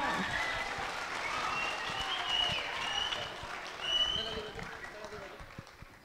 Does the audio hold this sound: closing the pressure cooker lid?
no